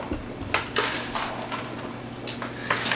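A spoon stirs a seasoned mixture with sage and salty bacon in a bowl, giving soft scraping and a few light clinks against the bowl's side, faint and close with no talking.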